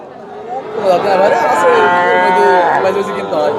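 Cattle lowing at a busy cattle market, a long drawn-out moo rising and holding for a couple of seconds, loud and near, with faint crowd chatter behind it.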